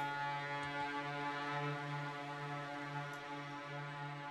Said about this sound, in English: So our nuggets have jumped the gun a bit and announced a siren